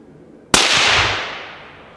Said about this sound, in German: Für mich verdeckt, doch für Stefan frei verhoffte die Sau ein letztes Mal und der Schuss brach.